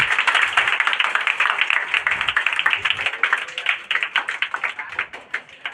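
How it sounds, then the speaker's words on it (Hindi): An audience claps steadily at a Bihar Board 2025 district topper award ceremony, a dense, sustained patter of many hands that thins into scattered claps toward the end. "जोरदार ताली हो जाए इस बच्चे के लिए"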